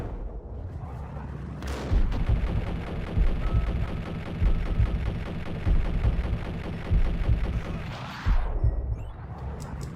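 Gunfire in the video game Max Payne rattles out as dense, loud, rapid bursts for most of the stretch, fading briefly between volleys with no talk over it.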